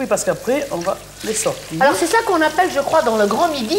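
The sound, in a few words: sea bass fillets frying in hot oil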